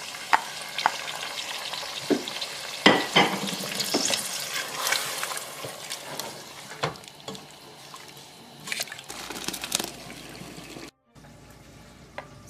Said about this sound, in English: And I'm going to cook down the yogurt